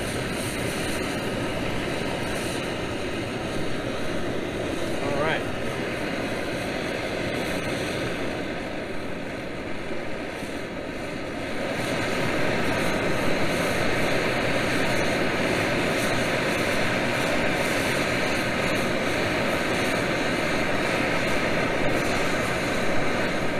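A Pathfinder multi-fuel camping stove burns propane with a loud, steady roar. The broadband rush continues close and unbroken and grows slightly stronger midway through.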